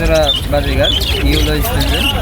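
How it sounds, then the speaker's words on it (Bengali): Budgerigars squawk and chirp among the pairs for sale at a busy Hemayetpur livestock market in Bangladesh, with steady close bird calls heard beneath continuous talk from people nearby. "এখানে এক পেয়ার বাজিকার দেখতে পাচ্ছি"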